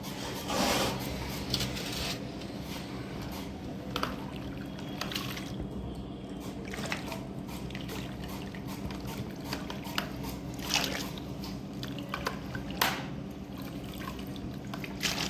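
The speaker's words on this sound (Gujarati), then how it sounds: "હવે આને આ બીજા પાણીએ ધોઈ નાખીએ આપણે।" Thin potato slices for wafers being rinsed by hand in a bowl of water, soft trickling and dripping with scattered sharper splashes and rubbing noises throughout, fairly quiet and without talk.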